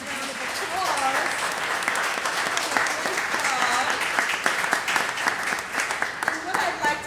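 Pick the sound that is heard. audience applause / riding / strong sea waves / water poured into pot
audience applause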